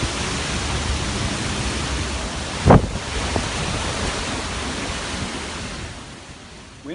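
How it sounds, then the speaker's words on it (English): Hurricane Irma squall winds of about 40 mph roaring steadily across the Florida Keys, a continuous broadband rush like surf with a brief sharp gust or knock near the middle, then easing slightly toward the end. "No już przychodzą szkwały, ale to dopiero jest mniej więcej 40 na godzinę"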